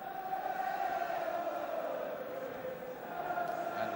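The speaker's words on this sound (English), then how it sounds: "Astonishingly large crowd here for a match with really nothing vital hanging on it." A large football crowd at a Chelsea vs Hull City match in 1977 makes a steady, distant murmur and hum that holds evenly throughout, with no individual voices standing out.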